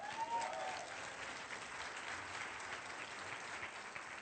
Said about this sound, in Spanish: dese un aplauso a usted mismo.